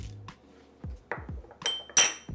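Roasted peanuts with garlic and chili being smashed in a mortar, giving sharp hard knocks and clinks in an irregular run of a few strikes, close and fairly quiet.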